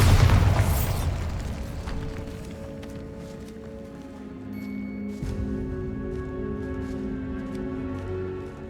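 Bombarda spell explosions from the video game Hogwarts Legacy: a loud booming blast at the start, then ringing tonal magic effects and ambient game sound trailing off without any speech.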